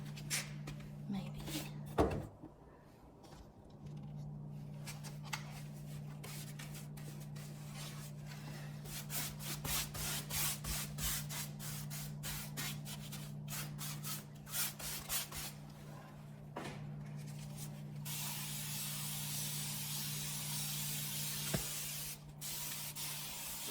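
Quick bursts of a spray bottle hiss as water re-wets a paintbrush with clay-based paint, among soft rubbing and clicks, with a steady low hum underneath; close and fairly quiet.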